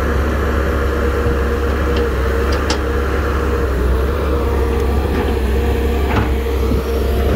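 A backhoe excavator's diesel engine runs steadily throughout, a loud, continuous low rumble with a faint mechanical hum and no voices.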